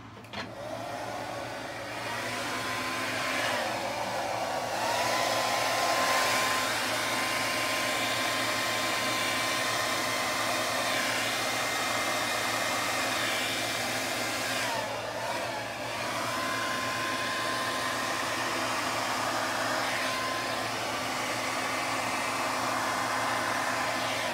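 A blow dryer blows air in a continuous, fairly loud whir, its pitch shifting slightly now and then throughout, with no voices.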